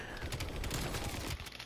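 Rapid automatic gunfire in Call of Duty Black Ops Cold War, a fast rattling burst of shots at moderate distance over steady game noise.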